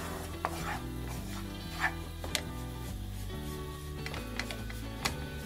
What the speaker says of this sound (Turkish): Bu unu yağla birlikte kavuracağız